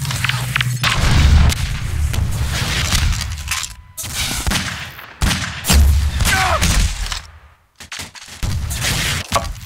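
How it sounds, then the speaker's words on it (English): Rocket blasts and weapon fire in Half-Life 2 Deathmatch: loud booming explosions and gunshots crowd the clip, with short silent gaps between bursts and close, heavy impacts throughout. "Okay, pre-fired rocket."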